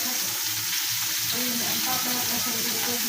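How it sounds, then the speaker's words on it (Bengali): Steady, close sizzling and crackling of shrimp fritters frying in hot oil, continuous throughout, with a faint voice underneath. "আর ভাজা ভাজা করবো"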